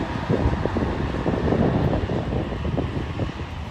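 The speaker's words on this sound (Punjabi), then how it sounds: "ਲਓ ਜੀ ਭਾਈ ਜੀ ਚੱਲਦੀ ਆ ਮਸ਼ੀਨ ਹੈ" A combine harvester running in a wheat field, with a stone reportedly lodged in its basket section, gives a steady, loud, dense mechanical rumble and roar with wind-like noise throughout, and no talk.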